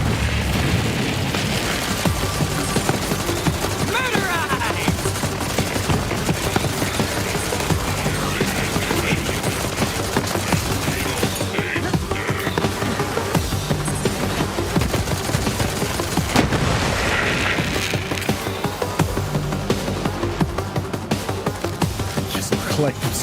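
Constant gunfire and explosions in the Borderlands shooter, a dense, loud wall of rapid shots and booms running throughout with game music and a voice mixed underneath.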